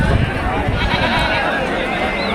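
Goats bleat at a busy village goat market in Kunta, mixed with people talking nearby and general crowd bustle.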